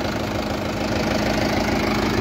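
A 2021 Mahindra 575 XP Plus farm tractor sits idling, its diesel engine giving a steady, loud low rumble with a constant mechanical knock and vibration, close by with no talking.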